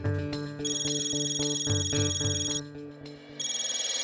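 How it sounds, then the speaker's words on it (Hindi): A telephone ringtone plays nearby, a looping electronic melody of bright tones that pauses briefly and starts again. "तेरा फोन बज रहा है"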